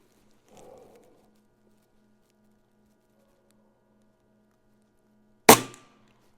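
A single sharp, loud rifle shot from a Notos air rifle fired at a 50-yard range, preceded by a faint soft rustle and a low steady hum, then quiet.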